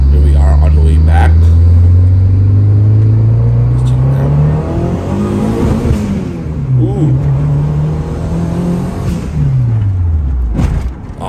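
A turbocharged car with a D16A6 engine pulls hard on a street test drive. Loud, close engine revs climb through gears with rising and falling tones and deep rumble, and voices are heard inside the cabin.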